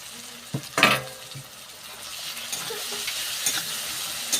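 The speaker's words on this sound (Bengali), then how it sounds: "এইবার আদা আর জিরে বাটা দিয়ে দেব" Ginger and cumin paste sizzling and frying in a pan with tomato and onion, a steady hiss broken by a couple of sharp stirring clanks near the start.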